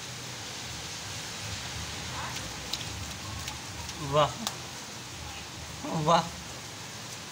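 Monsoon rain falling in a street, a steady broadband hiss throughout with people talking and exclaiming briefly over it.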